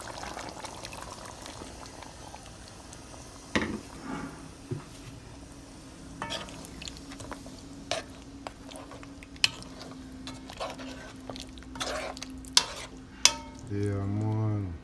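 Butter beans going into a pot of simmering beef stew: soft bubbling with scattered spoon clinks and stirring knocks, a low hum underneath and a brief louder rumble near the end.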